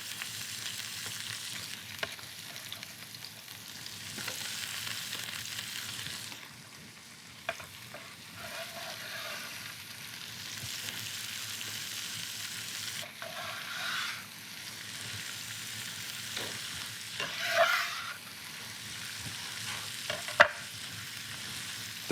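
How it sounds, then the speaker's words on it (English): Leeks fry in a pan with a continuous bright sizzle, punctuated by occasional stirring scrapes and clacks of a utensil, close and fairly loud with no talking. "So let's add our leeks straight to the pan."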